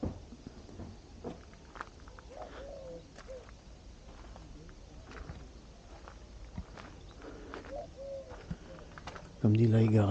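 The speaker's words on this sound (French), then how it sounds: "On entend les oiseaux." Pigeons or doves cooing at a camper van site beside a small river in Alsace, soft intermittent coos at a distance, with light footsteps and a person talking nearby, and a brief louder noise at the end.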